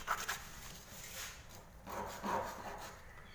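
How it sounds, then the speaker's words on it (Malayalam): Cut wooden fishing lure pieces are rubbed together to even them, giving faint, soft scraping strokes with a quiet background. "നമുക്കിവിടെ ഒന്ന് ഒപ്പ് പോകാൻ വേണ്ടിയിട്ടേ ഇവിടെ ഒന്ന് ഉരച്ച് കൊടുക്കാം."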